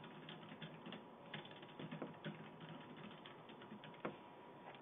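Quiet typing on a computer keyboard, a steady patter of soft key clicks with occasional slightly louder taps, close and alone.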